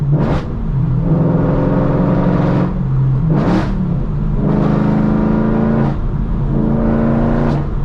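Straight-piped BMW E92 M3 V8 exhaust roaring through repeated hard revs and gear changes on a night drive, loud and close with a booming echo between pulls.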